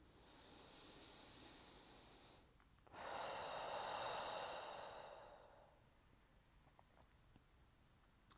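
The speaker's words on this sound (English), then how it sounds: "we're going to inhale and exhale deeply" A slow, deep breath during a yoga practice: a soft, airy inhale for a couple of seconds, a brief pause, then a louder, fuller exhale that fades away, close and quiet with no talking.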